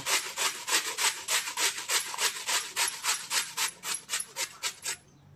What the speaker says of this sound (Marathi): खिसणी घ्यायची आहे आणि खिसणीवरती हे बटाटे दोघं किसून घेऊ